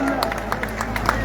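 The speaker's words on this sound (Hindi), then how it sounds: "जोरदार तालियां" Crowd clapping at an outdoor welcome ceremony where a local legislator is garlanded with a 51,000-rupee money garland, a brief steady burst of applause layered over a loudspeaker hum.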